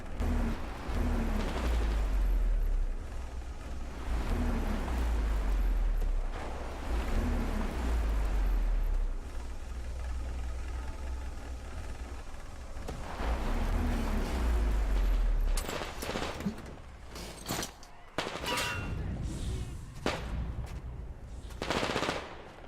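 Gunfire in the game Metro Exodus, with long rapid bursts of automatic fire and heavy low booms over the first half. Later it turns into sharper, scattered single shots and impacts, loud and close.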